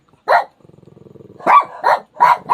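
A dog barks at night, in several sharp, loud barks close by, split by a low rumbling growl in between.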